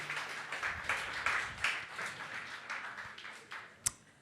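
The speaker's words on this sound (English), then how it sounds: "we can applaud them." A small office audience claps for new team members at a weekly breakfast meeting, a faint, steady patter of many hands with one sharp clap or knock near the end.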